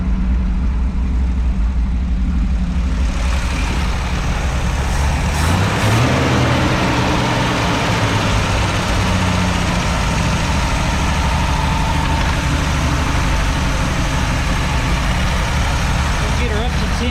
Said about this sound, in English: Good idle. It's idling.